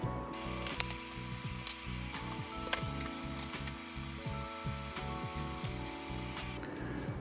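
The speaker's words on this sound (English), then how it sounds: "You'll remove all four of these little side screws. They are a T6 Torx bit." Small T6 Torx screws being backed out of the side of a 17-inch MacBook Pro drive during an SSD swap, giving a steady run of fine ratcheting clicks and metallic ticks, close and fairly quiet with no talking.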